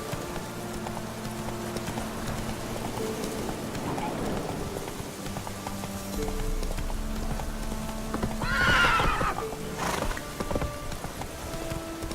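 A horse in The Witcher 3 video game clip-clops at a steady pace and gives a loud whinny midway, over game music and ambient rain-like noise.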